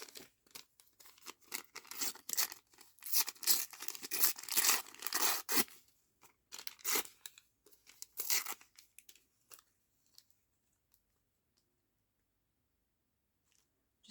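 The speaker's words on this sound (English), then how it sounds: "let's just tear some of this" Paper torn by hand for a junk journal, a run of loud ripping and crinkling strokes close by for about eight seconds, then a few faint rustles before quiet.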